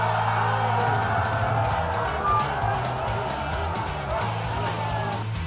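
Massed cheering and yelling from a rugby league crowd after a late go-ahead field goal, a sustained roar with a low hum underneath and voices mixed in.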